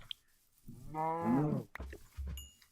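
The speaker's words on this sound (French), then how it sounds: "Une vache à moi!" Cow in a video game gives one drawn-out moo that rises and falls over about a second, with small clicks and a short low thump just after it.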